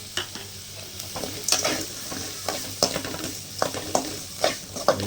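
Onions with a little salt fry in a pan. A utensil stirs them in repeated scraping strokes with irregular clinks, over a low, steady sizzle, close and moderately loud.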